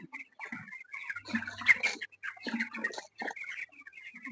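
Young chicks in a poultry farm shed give a busy chorus of high, close peeps and chirps, some overlapping, with brief pauses between flurries.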